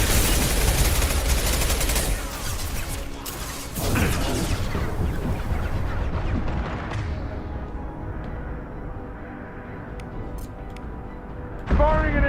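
Heavy gunfire from the video game Mass Effect 2 rattles in dense, rapid volleys, loud at first and then easing into a lower, busier battle din, with a sharp burst returning at the end. Voices speak beneath the shooting.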